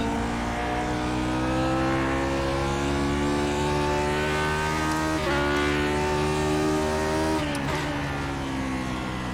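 Steady, loud race car engine drone in iRacing at the Milwaukee Mile oval in a Grand Prix Legends car, holding a constant high pitch with small shifts as it laps, with no voices.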